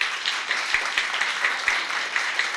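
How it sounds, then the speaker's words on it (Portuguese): Audience applause at a university's fiftieth-anniversary closing ceremony, dense close clapping with sharp individual claps standing out, steady and fairly loud for the whole stretch. "eu peço aplausos para toda a nossa comunidade da Universidade Federal Fluminense nesse momento"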